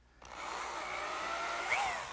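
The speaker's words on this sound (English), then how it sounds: "Now I'll pre-drill some holes in the end" A power drill pre-drilling screw holes into the end of a wooden column for a candle stand. The motor starts abruptly and settles into a steady, close whine that rises slightly in pitch toward the end.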